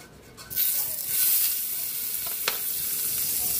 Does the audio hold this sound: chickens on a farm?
no